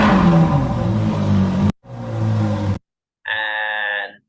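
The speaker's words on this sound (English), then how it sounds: "I want the car accelerating until the zoom in near the car" A car engine revs and accelerates in several separate bursts, the first long and loud with a rising pitch, then a shorter rev, then a higher whining burst after a brief silence, all close and without talk.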